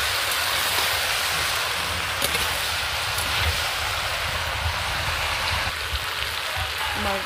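Poppy seed paste and potatoes being stirred in a frying pan, a loud continuous sizzle and hiss with scattered scraping clicks of the spatula, no talk.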